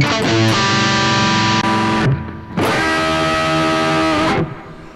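An electric guitar played through a Donner Arena 2000 multi-effects unit with reverb and delay rings out in loud, distorted sustained chords, two long strummed phrases with trailing echo between them.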